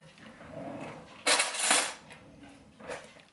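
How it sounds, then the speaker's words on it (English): A knife slicing an avocado in half on a kitchen counter, heard as a short crisp cutting and scraping burst with a couple of light clinks of cutlery, close up and without talk. "So I'm gonna slice this in half."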